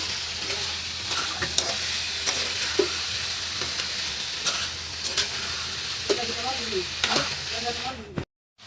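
Chopped eggplant and potatoes sizzling steadily in a hot pan, with intermittent scraping and clinking strokes of a spatula stirring, close and continuous until an abrupt stop.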